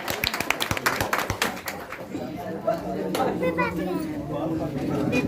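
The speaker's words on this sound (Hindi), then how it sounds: "इनके लिए जोरदार ताली बजाया जाए, तालियों के साथ इनका स्वागत किया जाए।" A crowd at a study centre's prize distribution claps briefly for a student, with a burst of sharp hand claps at the start that gives way to murmured chatter and voices.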